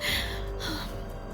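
Rapid, breathy panting, a few quick gasping breaths close up, sounding anxious and short, with no words spoken.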